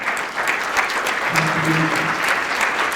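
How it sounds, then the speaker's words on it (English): Audience applause at a community loan fund's 40th anniversary event, a close, steady crackle of many hands clapping with some individual claps popping out, and a brief voice murmuring underneath. "all of you community builders deserve a round of applause"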